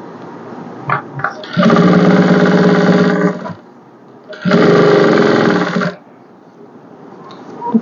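A sewing machine stitches a blouse in two loud, steady whirring runs separated by a pause, with light handling clicks before and after.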